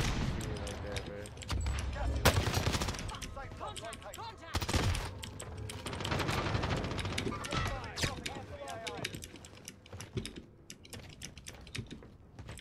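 Gunfire in a Warzone video game match on Rebirth Island, with rapid bursts of shots mixed with loud, clicky keyboard typing, while a player talks.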